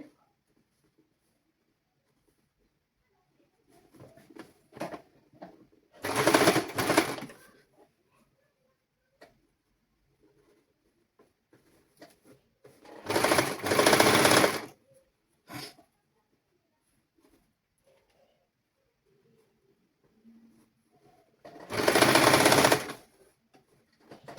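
A sewing machine stitching a folded hem on a child's summer dress, heard in three separate short bursts of rapid mechanical whirring a few seconds apart, with quiet handling noises between them.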